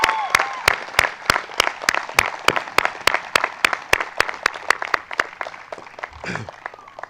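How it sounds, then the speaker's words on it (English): An audience at a convocation ceremony applauds Shraddha Sharma with loud, regular claps that start crisp and thin out toward the end, and a brief low thump comes near the close. "Let's give a big round of applause to Shraddha Sharma."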